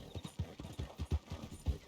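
Horse hooves clip-clop at a steady walking rhythm in the Red Dead Redemption 2 video game, a close, even series of soft thuds running through the whole moment, heard alone without talk.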